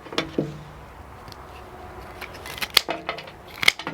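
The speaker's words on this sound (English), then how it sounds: "So now I can just trim my ends to fit the vase." Scissors trimming flower stems for a bouquet make a few crisp snips, one early and a cluster near the end, with quiet stretches between.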